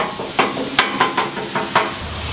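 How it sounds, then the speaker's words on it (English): Ground turkey being broken up on a hot griddle, a loud run of rhythmic scraping and clanking spatula strikes over a continuous sizzle, close and busy, with no voices. "I'm just gonna break up the turkey and start getting it into smaller chunks as I make a ton of noise"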